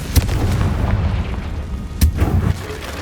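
Two fiery spell blasts of Confringo from Hogwarts Legacy, each a sudden booming burst with a short rumbling tail, about two seconds apart over a steady low game ambience.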